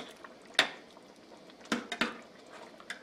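A catfish and shrimp courtbouillon is stirred gently in a pot, with a few distinct clinks and scrapes of a utensil against the pot wall over a soft simmering background, close and fairly quiet.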